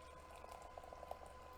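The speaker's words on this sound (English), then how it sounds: "I'm pouring this hot water now" Hot water being poured into a glass jar, a soft, faint bubbling trickle with small plinking droplets over about a second and a half.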